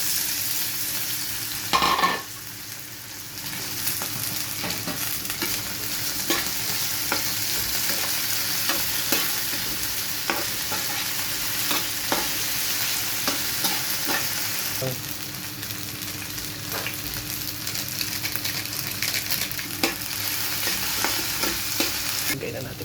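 Sliced onions sizzle loudly in hot oil in a pan while being stirred for corned beef, a dense continuous frying hiss broken by scraping stirs, close and without speech.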